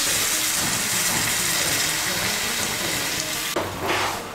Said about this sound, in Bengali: আমি এর মধ্যে দু কাপ গরম জল দিচ্ছি।